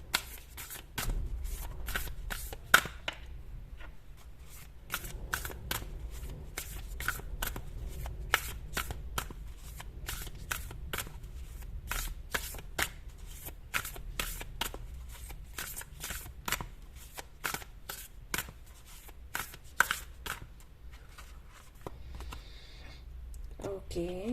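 Tarot cards being shuffled by hand for a reading, a close series of rapid crisp riffles and soft card slides repeating for over twenty seconds, quiet and steady with a brief murmur near the end.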